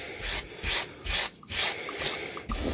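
Abrasive Scotch-Brite pad scrubbed over a rusty metal vise, a close, raspy rubbing in four strong back-and-forth strokes, then lighter, quicker scrubbing.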